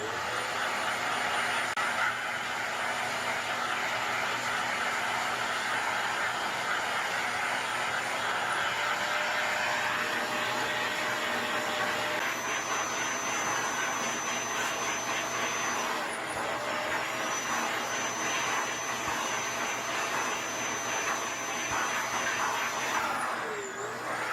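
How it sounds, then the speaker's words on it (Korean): A vacuum cleaner runs continuously while cleaning a vacuum cleaner's filter, a loud, steady whine and rush of air with slight pitch shifts as the nozzle moves over the filter. "이렇게 청소기로 청소를 합니다."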